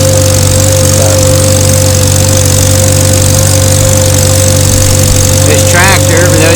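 An old farm tractor that came with the farm runs at a steady, loud mid-pitched drone for corn planting, with constant engine hum throughout and a voice talking over it.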